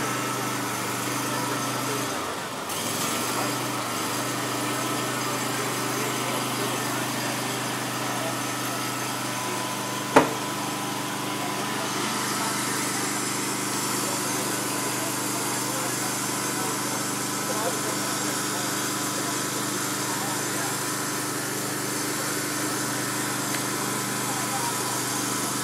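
Wood-chip-fuelled 10kW generator set driven by a Honda V-twin engine, with an automated auger fuel feed, runs in a continuous steady drone throughout, with one brief sharp click midway.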